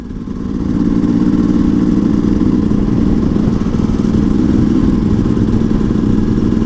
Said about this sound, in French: Ma moto fait un bruit de 50